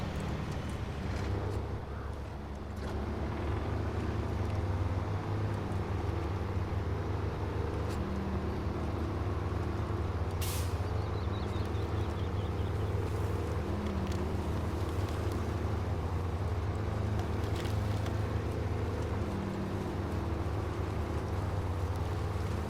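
Stock truck in SnowRunner driving through rough terrain, a steady low engine drone holding constant with little change in pitch, loud and continuous for the whole stretch with no talk.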